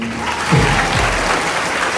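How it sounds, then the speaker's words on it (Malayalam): Steady applause from an audience at a quiz competition final, a dense wash of clapping lasting about two seconds with no voices over it. "അതാണ് ശരിയെങ്കിൽ കൈയടിച്ചേ"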